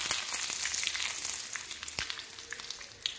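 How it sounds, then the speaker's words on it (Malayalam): Dry red chillies and curry leaves frying in hot oil for a tempering over a jackfruit seed and mango curry, giving a steady close sizzle with scattered sharp pops and crackles. "ഇതിലേക്ക് ഒരു രണ്ട് വറ്റമുളക് വറ്റുന്നതും കുറച്ച് കറിവേപ്പിലയും കൂടെ ചേർത്തിട്ട് എണ്ണയിട്ടൊന്ന്"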